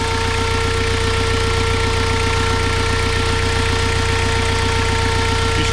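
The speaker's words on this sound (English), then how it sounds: "The thermo fan's on now. She's pumping a bit of air." An electric radiator thermo fan runs on a Suzuki Vitara, giving a loud, steady, even whir with a faint engine rumble and pulsing beneath it, and no break in the sound.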